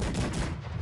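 Rapid gunfire bursts in a battle video game, loud and dense, with several overlapping shots packed into under a second.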